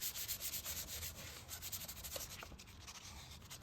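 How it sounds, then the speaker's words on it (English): Hand sanding of painted metal with 320 grit sandpaper, a steady scratchy rubbing in quick back-and-forth strokes, close and moderately loud throughout with no talking. "You don't want to sand it too much and go through the paint and back to the primer and the metal again"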